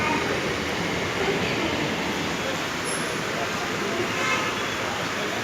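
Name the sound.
local train arriving at station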